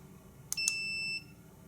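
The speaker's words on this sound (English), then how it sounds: "if it beeps like that, it means it's not hooked up properly." An automotive battery tester that is not properly connected gives two quick high beeps followed by a steady electronic tone lasting about half a second, clear and close in a quiet room.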